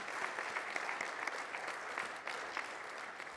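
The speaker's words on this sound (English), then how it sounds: "Let's give them a hand of applause." Steady, dense applause from an audience at an award ceremony for green hydrogen pilot projects in Namibia, continuous clapping filling the room throughout with no talk.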